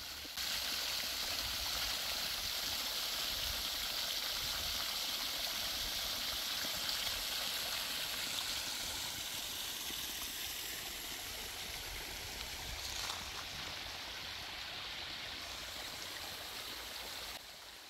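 Water from a flowing well at a campground runs steadily with a continuous splashing, stream-like rush, close and fairly even throughout with no talking.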